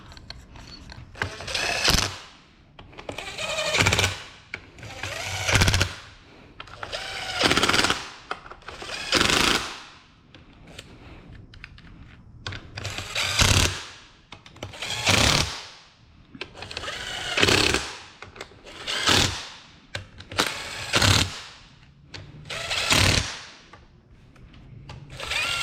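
Power tool running bolts into a 5-speed transmission case, repeated bursts of whirring that rise and stop in a steady rhythm, loud and close with no talking.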